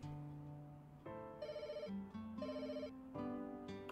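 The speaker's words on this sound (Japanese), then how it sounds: "すんげえ電話がずーっと鳴りっぱなすのかな" Telephone ringing inside a pet hotel management video game, a repeating electronic ringtone melody, steady and clear, playing alone.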